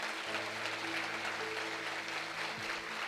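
A church congregation applauds in a continuous, fairly faint wash of clapping, with sustained musical tones held underneath.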